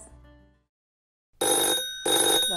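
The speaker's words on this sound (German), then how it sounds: "Läutet da mein Telefon?" A telephone rings in two loud, clear bursts after a short silence, with a faint voice or music fading out at the start.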